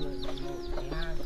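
Farmyard chickens cluck in short, closely spaced calls, near and moderately loud, with faint background noise on a rural Vietnamese homestead.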